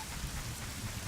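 Steady rain from the video game The Legend of Zelda: Ocarina of Time Master Quest, a soft constant hiss and patter of falling drops that continues evenly throughout with no talking.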